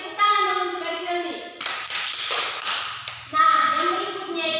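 A short burst of group clapping from children in a classroom, between stretches of an adult teacher speaking in Indonesian nearby.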